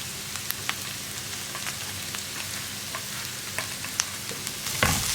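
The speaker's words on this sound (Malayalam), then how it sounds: "ജിഞ്ചർ ഗാർലിക് പേസ്റ്റ് ചേർത്ത് നന്നായിട്ടൊന്ന് ഇളക്കി ഒരു മിനിറ്റ് ഇളക്കി കൊടുത്തിട്ടുണ്ടെങ്കിൽ ജിഞ്ചർ ഗാർലിക് പേസ്റ്റിൻ്റെ ആ റോ ടേസ്റ്റ് മാറി വരും" Ginger garlic paste stirred into vegetables frying in a pan, a steady soft sizzle with faint scraping clicks and a sharper stir near the end, alone without talk.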